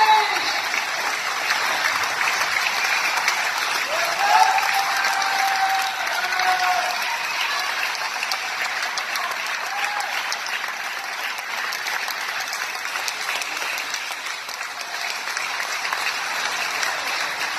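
Audience applause at a charity motorcycle ride event, sustained clapping from a sizable crowd that swells briefly early on and then holds steady, with a voice faintly audible beneath it.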